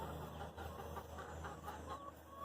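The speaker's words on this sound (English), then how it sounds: "all I have is my chickens in there, and all the chickens are in there." Chickens in a garden coop cluck faintly and intermittently over a steady low hum, as a muted background flock with no talk.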